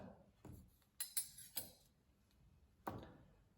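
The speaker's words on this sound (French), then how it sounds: "on va retaper avec les cuillères 5 fois, avec les dos des cuillères" Backs of spoons tapping, about five light clinks spaced unevenly, faint and close in a quiet room.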